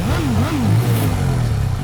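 A sports bike engine revs close and loud, pitch climbing and dipping in quick throttle blips before settling into a rough, clattering idle.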